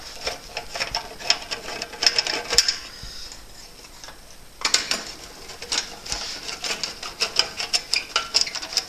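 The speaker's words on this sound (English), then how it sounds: "There's two 1/4 inch screws in the back of the burner box itself." Two 1/4 inch screws being removed from the back of a burner box, heard as rapid close mechanical clicking and whirring from a power driver, in bursts with a short pause.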